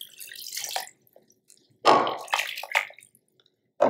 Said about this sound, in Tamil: அந்த மட்டன் மூழ்கிற அளவுக்கு தண்ணி ஊற்றிக்கலாம்.